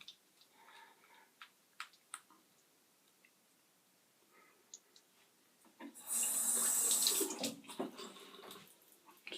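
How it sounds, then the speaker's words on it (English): Tap water runs to rinse a Gillette Black Tip safety razor, a steady splashing rush lasting about two seconds after scattered small clicks and taps. "Just rinse it off and dry it off with the towel."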